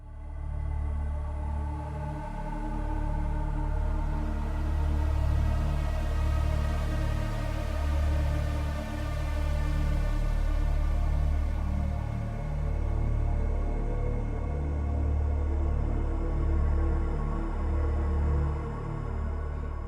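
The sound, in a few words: Subnautica video game soundtrack music in the blood kelps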